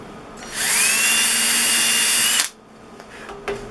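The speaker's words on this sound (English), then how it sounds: "to sharpen a white piece of wood and then drill a hole and put that piece in there." Power drill boring a hole through a piece of wood for intarsia work, a loud close whine running steadily for about two seconds before cutting off, followed by faint handling noises.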